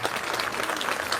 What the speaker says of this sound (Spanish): dame un aplauso para la hermana que quiere hacer una pregunta